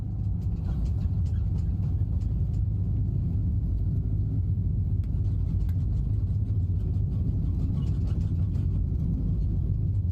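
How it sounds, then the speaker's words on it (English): A light aircraft's piston engine holds a steady, loud low-frequency drone and rumble, running continuously without a break at full power for takeoff down a long runway with no flaps set. "Gradually get ourselves to full power setting."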